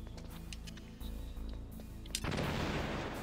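A harsh, distorted C4 blast in Metal Gear Solid erupts partway through and holds as a loud, clipped roar over the game's music and effects.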